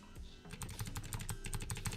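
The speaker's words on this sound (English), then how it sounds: "I'm just gonna move this with my arrow keys" Arrow keys on a computer keyboard are tapped in a quick, fairly even run of close, crisp clicks, with no talking.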